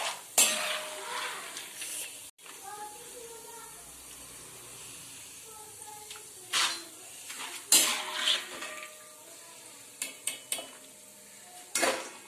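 Roasted peanuts scooped out of a hot pan, with intermittent scraping and metallic clinks of a spoon against the pan over a faint sizzle, in short bursts separated by quieter stretches.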